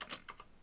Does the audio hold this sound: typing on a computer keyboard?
yes